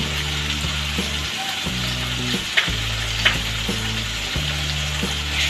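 Spices with Kashmiri chili powder and sugar fry in oil for chana masala, a steady close sizzle with periodic spatula scrapes over a droning tonal hum that cuts in and out, no speech.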